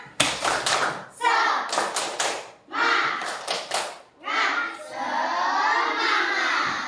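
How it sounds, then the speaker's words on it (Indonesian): Rhythmic bursts of classroom clapping in a patterned chant, mixed with children's voices calling out together, in quick repeated groups with short pauses between them. "Tepuk semangat!"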